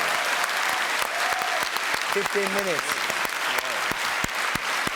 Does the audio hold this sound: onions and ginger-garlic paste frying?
no